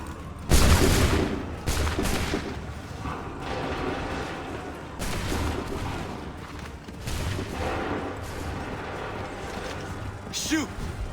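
Muskets fire in volleys on command on an Assassin's Creed III battlefield, with loud booming discharges at intervals over a dense background of mechanical clatter and din.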